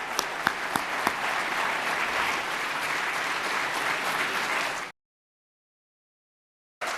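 An audience at an RJC event gives Senator Graham a big round of applause, a loud, dense wash of clapping with a few sharp individual claps, which breaks off abruptly into silence before resuming.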